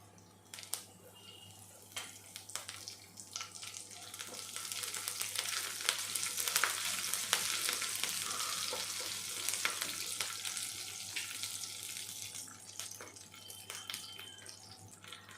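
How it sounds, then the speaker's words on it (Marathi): Garlic, mild green chilies and curry leaves frying in hot oil, a dense crackling sizzle that swells louder in the middle and then settles, with faint stirring taps, close and alone. "लसूण थोडा परतून झालं की आपण ह्याच्यामध्ये लगेच ह्या कमी तिखटाच्या मिरच्या आणि कढीपत्ता टाकत आहे"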